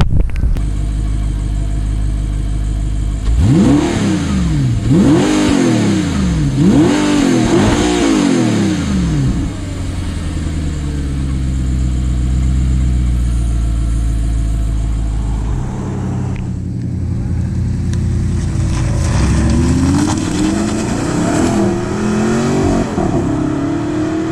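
A 2011 Audi R8 Spyder supercar engine revs hard several times in quick rising and falling sweeps, then settles into a steady idle before further swelling revs, loud and close with deep exhaust.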